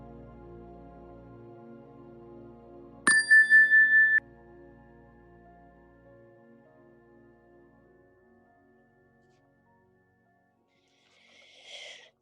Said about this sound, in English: we'll begin the meditation with the ring of the chime as we always do